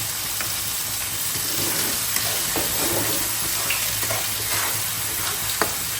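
Water from rinsing a blender is poured into spice paste frying in a pan for chicken curry, raising a loud, steady hiss and bubbling sizzle with faint stirring taps, close and with no talking.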